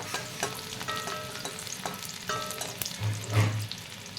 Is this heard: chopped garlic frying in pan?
yes